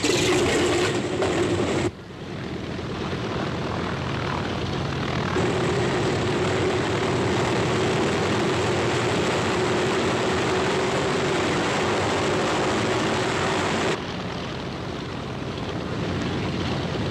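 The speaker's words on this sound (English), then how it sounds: "The Sky train takes off toward the English Channel and heads for Holland." A 1944 C-47 Skytrain transport takes off toward the English Channel during WWII, its piston engines and propellers a loud, steady roaring drone that continues throughout, broken by a couple of abrupt cuts, with no voices.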